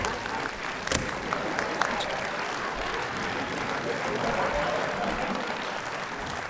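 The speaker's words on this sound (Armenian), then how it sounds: "Բայց այնուամենայնիվ ծափար ենք մասնակցին։" Studio audience applauding a contestant on an Armenian game show, dense sustained clapping throughout at a fairly loud, even level, with voices faintly mixed in.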